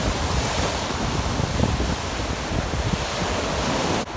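Gulf Coast surf at Fort Morgan, Alabama, rolls in as a loud, continuous roar of breaking waves, thick with wind buffeting the microphone and no voices.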